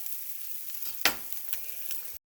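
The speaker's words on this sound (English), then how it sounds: "the eggs I just cook in 1 teaspoon of grass-fed butter" Eggs frying in a teaspoon of grass-fed butter crackle with a steady, soft sizzle in a pan, close by, with one sharper pop and a few light spatters before it cuts off.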